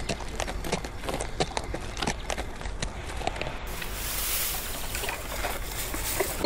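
Horses in an animated film trot off, a steady run of hoof clip-clops with no voices, joined partway through by a brighter hissing wash.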